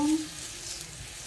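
Garlic fries in a pan with a steady, bright sizzle and crackle that holds at an even level throughout the short stretch.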